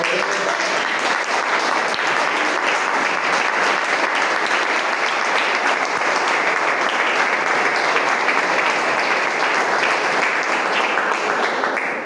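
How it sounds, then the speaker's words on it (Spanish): Sustained applause from a large church congregation during a sermon, dense and even clapping that continues loudly for the whole stretch without pause. "¿Qué tal si le da un aplauso a Dios?"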